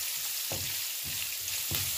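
Capsicum and chili are stirred and fried in a pan, with a continuous close sizzle broken by a few soft scraping stirs at regular intervals, with no talk.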